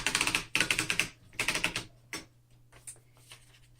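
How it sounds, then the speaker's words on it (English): A 1908 Remington Standard typewriter makes loud, rapid mechanical clatters in two dense bursts as paper is fed in, followed by scattered lighter clicks and ticks that trail off. "And then let's go ahead and load the paper."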